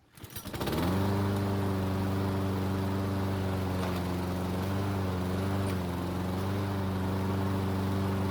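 A Toro Personal Pace self-propelled lawn mower, run for a test while its drive-belt fault is being repaired, starts up and settles into a loud, steady engine drone that holds for several seconds, with no talking.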